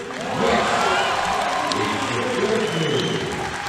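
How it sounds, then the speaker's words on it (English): Crowd at the 2019 World Classic Powerlifting Championships, men's open 93 kg, cheering and applauding loudly and steadily, a dense roar of clapping and shouts with a commentator's voice faintly underneath. "And the crowd going crazy here."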